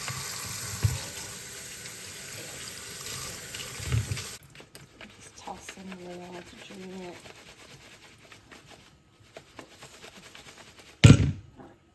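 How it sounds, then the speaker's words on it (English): Water runs steadily from a tap into a sink for several seconds, then stops, leaving quieter handling noises and a sudden clunk at the end. "I like to use this regular like cold water for washing everything"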